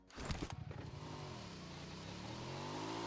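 A sidecar motorcycle engine revs sharply at the start, then settles into a steady, loud droning idle up close.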